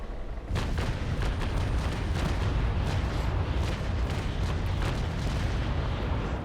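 Broadside cannon fire from sailing warships in a naval battle game rumbles as a dense, continuous roar of overlapping booms, loud and sustained throughout.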